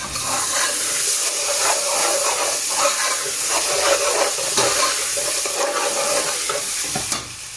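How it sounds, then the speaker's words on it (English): Onions fry in a large family pot for lamb dhansak curry, making a loud, continuous sizzling hiss with soft stirring scrapes throughout and no speech. "Now let it fry the onion for a bit"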